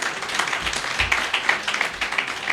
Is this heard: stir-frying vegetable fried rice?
no